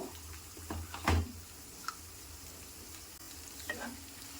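Potatoes and chana dal frying in a pan for a potato masala curry, a soft continuous sizzle close by with an occasional knock or scrape of a spoon, fairly quiet overall.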